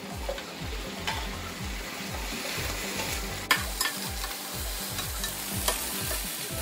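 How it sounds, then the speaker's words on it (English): Cabbage stir-frying with cooked meat in a hot pan, a steady sizzle broken by rhythmic scraping and tossing strokes, close and continuous, with no talk. "After our meat is cooked, we'll add in our cabbage now."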